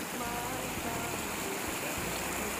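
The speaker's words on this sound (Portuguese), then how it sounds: "Agora é que tá vindo água com força" A swollen river rushes hard past a house after heavy rains, giving a steady, loud broadband roar of fast-moving water that holds without break throughout.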